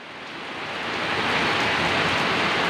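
Heavy rain pours down in a dense, steady roar that swells slightly over the first second and then holds loud and constant, with no voices.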